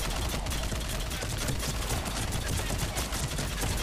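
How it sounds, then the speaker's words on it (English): Rapid bursts of enemy gunfire in the Mass Effect video game rattle continuously, loud and dense, with overlapping automatic shots layered close together and no pauses. "right now they're just they're shooting at me"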